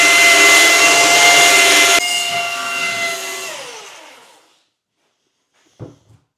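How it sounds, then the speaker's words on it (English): Orbital sander running loud and steady on a glued wooden coffee table top, its whir winding down and fading to silence, followed by a brief clunk near the end. "Orbital sander after and kind of feather everything out."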